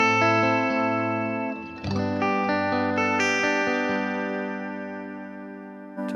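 Guitar chords ring out drenched in reverb with the effects level and reverb time at maximum, each strum blooming into a long shimmering wash that overlaps the next and slowly decays.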